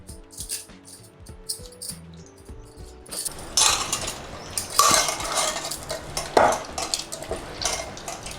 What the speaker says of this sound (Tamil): இப்போ தக்காளி, ஒரு 3 தக்காளி, பெரிய தக்காளி கரைச்சிடலாம்.